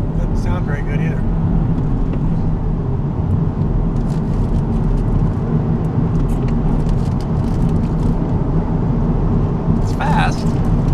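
Engine of a Nissan 370Z coupe droning steadily under a driver's talk while on the road, with a constant loud rumble and brief shifts in tone.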